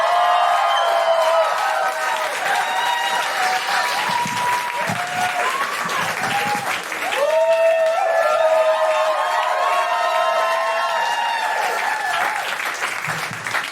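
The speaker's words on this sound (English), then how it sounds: "Another round of applause for Dana Alexander," A live audience at a comedy show applauds for comedian Dana Alexander, sustained loud clapping with some cheering, while a voice talks over the applause.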